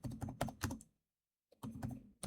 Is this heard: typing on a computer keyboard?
yes